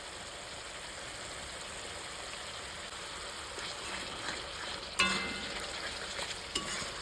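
Turmeric, salt and Kashmiri chili powder fry in a pan with a faint, steady sizzle, and a sharper clatter of stirring breaks in near the middle.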